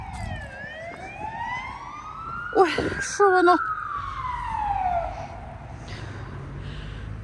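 A police car siren sweeps past along a city street in Kryvyi Rih, its wail rising and then falling away, with a short sharper burst partway through and people speaking briefly over it.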